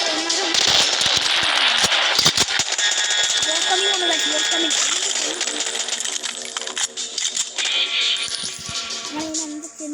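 Gunfire in a video game as zombies are shot, fast rattling bursts and single shots through a busy game soundtrack, with someone talking over much of it.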